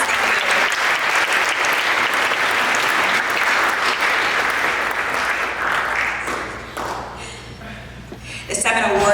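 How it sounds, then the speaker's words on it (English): Sustained, loud applause from an upper school awards ceremony audience, a dense wash of clapping that carries for several seconds before thinning out, with voices rising near the end. "All right, let's give them one more round of applause."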